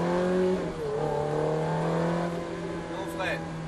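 A Ferrari F430 accelerates at full throttle from inside the cabin, its engine holding a loud, steady rising drone for a few seconds, with a passenger ride in progress.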